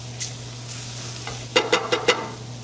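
Minced garlic and onions fry in a pan with a low steady sizzle. A burst of four quick scraping stirs comes near the end, and no one speaks.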